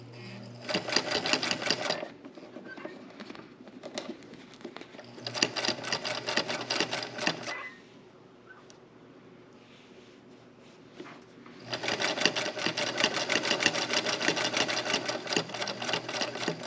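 A home sewing machine stitching a narrow zigzag seam on a baby bib, in three bursts of rapid mechanical clatter separated by quiet pauses, close and moderately loud with no talking.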